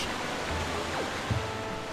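Waterfall rushing in the video game The Legend of Zelda: The Wind Waker HD, a steady close wash of broadband water noise with no voices.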